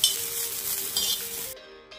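Kharda ingredients roasting in a tava pan give a steady broadband sizzle with light stirring and faint clinks, then cut off sharply near the end as the pan is taken away.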